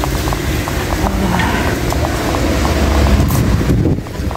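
Steady, loud wind roars across the microphone throughout, a constant rushing noise with faint clinks in the background.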